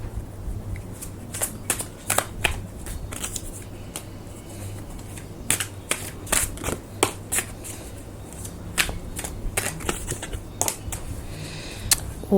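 Tarot cards are shuffled by hand, a sequence of crisp riffling flicks and soft slaps coming in irregular bursts, close and fairly quiet over a low background hum.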